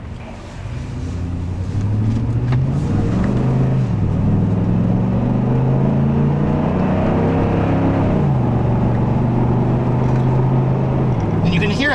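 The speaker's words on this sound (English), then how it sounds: "the exhaust note is very predominant in this vehicle" A 2013 Ford F-150 SVT Raptor with a 6.2-liter V8 roars loudly as it accelerates, the exhaust note climbing through gears with audible shift drops, wind rumbling over it.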